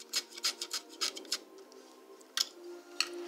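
Rubbing grit, grease and oxide off the wheels of a Marx #999 toy train, heard as a series of short, close scrubbing and scratching strokes in quick bursts, then a few isolated scrapes.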